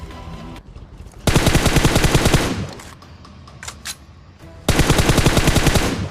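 Rapid automatic gunfire from the Battlegrounds Mobile India battle royale game, loud sustained bursts separated by a quieter gap with a few single shots.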